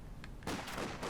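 MG34 machine gun firing in Company of Heroes 2: a loud, dense burst of rapid shots that erupts after a short quieter lead-in and keeps going to the end.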